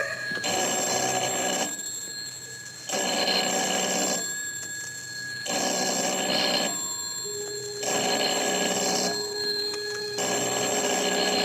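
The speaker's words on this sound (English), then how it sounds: "A telephone ringing in an empty house." A telephone rings in repeated bursts with short silent gaps between them, a clear electronic trill sounding alone in a quiet room.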